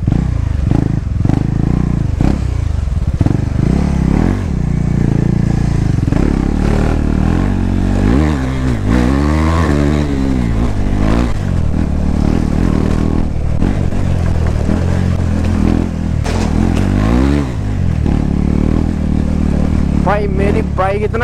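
A modified KTM Duke 390 BS6 motorcycle engine throttles hard in traffic, its rasping drone swelling and falling in long revving surges, loud and close, with a rider talking over it throughout.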